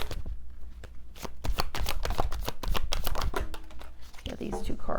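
Cards of a Soul Helper oracle deck are shuffled close up in a steady, busy flurry of riffling and slapping, with a voice murmuring faintly underneath.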